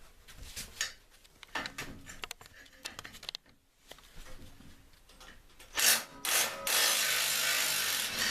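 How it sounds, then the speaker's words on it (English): Cordless impact gun removing nuts from a Dana 44 axle: scattered clicks and scraping of tools first, then a loud, sustained rattling burst near the end, close up. "impact gun."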